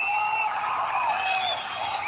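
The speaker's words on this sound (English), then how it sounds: "they're applauding to the game that's happening" A crowd at a game, applause and cheering blended into a steady wash of sound that holds at an even, moderately loud level, with no single clap standing out.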